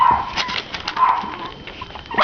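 A small Havanese puppy gives short, high yips and whimpers in quick, uneven bursts that sound close and moderately loud, with some soft background noise.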